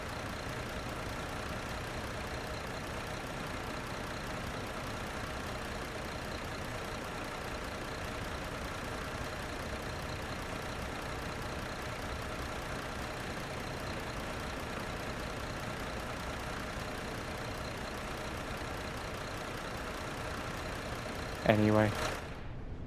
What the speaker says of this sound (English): Let's kill the engine.